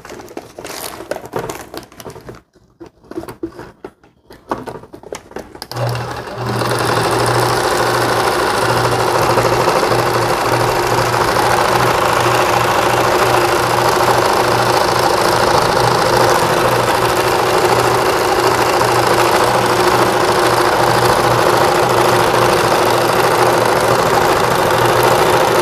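Sewing machine stitching a mermaid dress, running in one loud, continuous mechanical whir after a few seconds of handling noise, steady and close with no voices.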